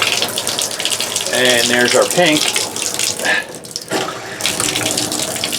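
Cold water runs steadily from a motorhome bathtub faucet, a close, hissing gush with a brief sputter that eases for a moment before flowing strongly again, while someone talks over it.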